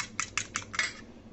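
A spoon mixing an aloe vera hair remedy in a bowl gives four or five quick, light clinks spaced a fraction of a second apart, close by and alone.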